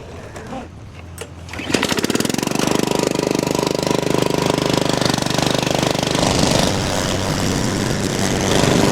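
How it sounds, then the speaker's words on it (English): Radio-controlled lawn mower creeps through woods, its engine starting up abruptly after a quiet opening and then running loud and steady with a rapid chattering drone close by. "So I'm bringing my radio control mower back here now."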